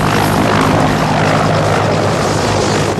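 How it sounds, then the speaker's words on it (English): A helicopter flies close by in a tense sea rescue scene from the 2009 film Mega Piranha, its loud, steady rotor roar filling the whole stretch without a break. "there's an unidentified helicopter and it's flying toward the rescue craft."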